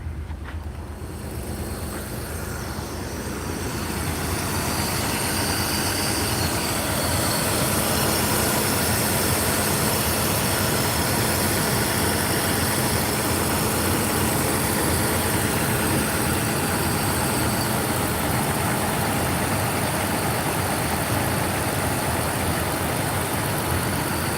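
A 2004 BMW E46 with two misfiring cylinders idles just after start-up, giving a loud, steady, broadband engine rumble that swells slightly in the first seconds and then holds constant, with no talking.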